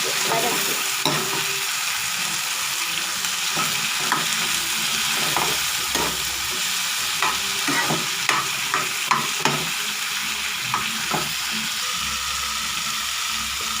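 Tomatoes sauté in a pan for paneer butter masala, a steady soft sizzle broken by repeated scraping stirs of a spoon against the pan, close and moderately loud with no voices.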